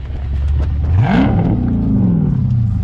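Close and loud, a Chrysler 300 SRT fitted with a swapped 392 engine revs up once, its pitch sweeping upward before settling into a steady drone as the car drives off.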